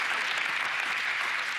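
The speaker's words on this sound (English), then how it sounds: "I think that would need a round of applause as well" Audience applause at a panel discussion on European sovereignty, a steady, dense wash of clapping from a roomful of people that holds evenly for its whole short length.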